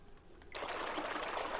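Water in the Dreams game starts abruptly after a quiet moment and then falls in a steady, close splashing trickle that continues to the end.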